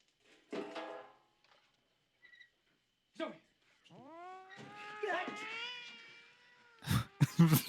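A cat in a 1985 horror film meows and then lets out a long rising caterwaul, with short broken cries around it and a few sharp noises at the end.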